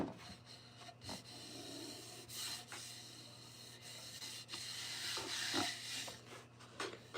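A wooden cutting board is sanded with 60-grit paper, a steady, close, coarse scratching rasp that runs continuously with small surges in pressure and no talk over it.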